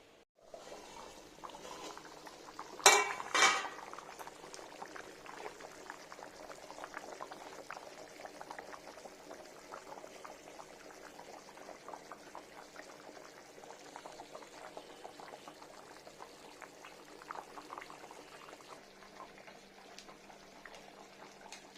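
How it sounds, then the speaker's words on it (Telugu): Brinjal and fish curry simmering under a lid in a pot, a steady soft bubbling and gentle liquid murmur throughout, with a brief louder clatter near the start. "మూత పెట్టి ఒక ఐదు నిమిషాలు ఉడికించుకుందాం"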